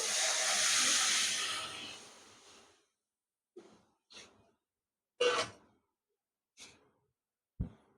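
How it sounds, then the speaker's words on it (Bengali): Water poured into a hot wok, a loud hissing surge of steam that fades over about three seconds, followed by a few short scraping and clinking sounds separated by silence. "আমি আবারও কড়াইটা বসিয়ে দিয়েছি, এখন দিয়ে দেব জল।"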